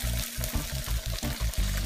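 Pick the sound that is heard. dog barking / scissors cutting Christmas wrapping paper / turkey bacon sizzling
turkey bacon sizzling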